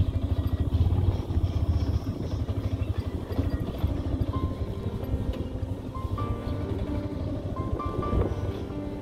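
Motorcycle riding along a mountain road in the hills of Nepal, its engine droning steadily and fairly loud throughout with a continuous rumble and no talk.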